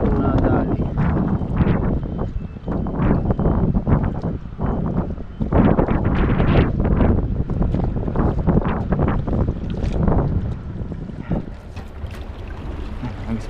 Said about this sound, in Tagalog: Pasensya na po at mahangin po.